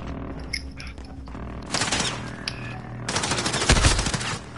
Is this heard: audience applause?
no